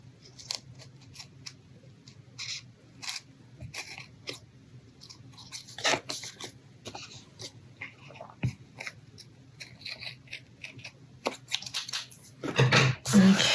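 Scissors trimming paper for a flip-out pocket page, with a series of short, crisp snips at close range and a louder rustle of handled paper at the end, while a person speaks quietly throughout.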